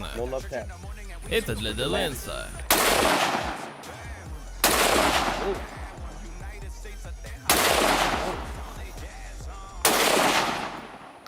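Steyr AUG bullpup rifle firing four loud single shots, each a sharp crack followed by a long echoing decay, with short pauses between them and people talking in the gaps.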